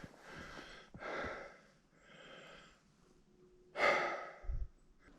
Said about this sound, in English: Maybe you can hear that from my kind of breathing.